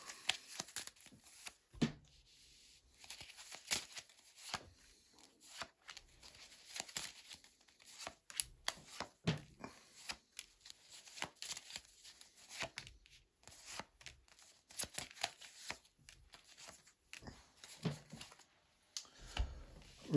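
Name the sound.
tarot cards being laid down on table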